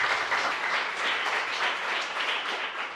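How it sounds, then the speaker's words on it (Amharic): Warm applause from a room of students in an Amharic film scene, a steady dense patter of many hands clapping together for the full three seconds, moderately close with no talk over it. "ሞቅ ያለ ጭብጨባ"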